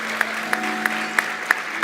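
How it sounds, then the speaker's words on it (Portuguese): Audience applause at a live talk-show taping in Portuguese, a thin, steady patter of clapping with a few sharper individual claps standing out at a regular pace, moderately distant and without voices. "uma salva de palmas"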